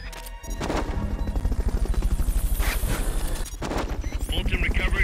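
A Fulton recovery helicopter in the video game Metal Gear Solid: Peace Walker gives a steady, pulsing rotor thump throughout, mixed with bangs and crashes and a voice.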